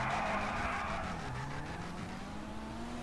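Steady engine drone with a rising tone runs throughout, a car in Grand Theft Auto V Online, with a faint squeal over the top, loud and close, no talking.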